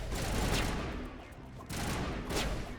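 Sustained bursts of gunfire from the Mass Effect video game, dense and loud, swelling and dipping over a few seconds with no clear pauses between shots.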